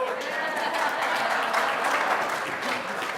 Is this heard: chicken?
no